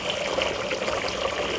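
Water pouring off washed salt fish into a sink, a steady soft trickling stream, close and fairly quiet, with no voices.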